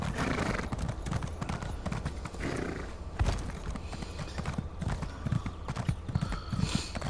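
A horse gallops in The Elder Scrolls Online, steady clip-clop hoofbeats thudding close and continuous, with a whinny mixed into the rhythm and no talking.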